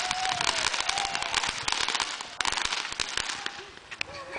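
Fireworks crackle and pop in a dense, continuous burst of sharp reports with a few faint whistles, heard outdoors at moderate distance with occasional voices in the background.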